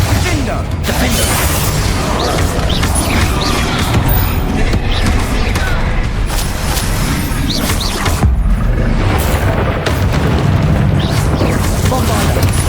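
Bombarda and Confringo spells explode repeatedly in a Hogwarts Legacy battle, a steady barrage of booms and crashes with clattering mechanisms, loud and dense throughout, and voices heard between the blasts.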